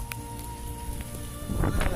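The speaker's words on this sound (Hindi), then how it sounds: "अभी बारिश तो हो रही है" Rain falls steadily outdoors, a faint, even patter and hiss that runs without a break and grows slightly louder toward the end, with no one speaking.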